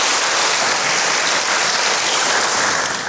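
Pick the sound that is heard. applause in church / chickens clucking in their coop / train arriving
applause in church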